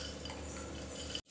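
Soaked mixed dal being added to a pressure cooker, a soft wet shuffling and clinking of utensil and pot heard close and fairly quiet, ending abruptly.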